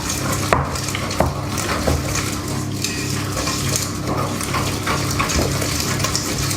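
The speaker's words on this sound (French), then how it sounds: "Donc on mélange, on obtient une pâte homogène." Cake batter stirred in a bowl with vanilla and cane sugar, a utensil scraping and clinking against the dish in steady repeated strokes, close and moderately loud, with no talk.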